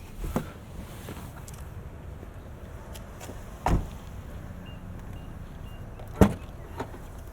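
The trunk of a 2022 Nissan Kicks SR opens with a few faint latch clicks and soft thumps against a quiet, hushed background.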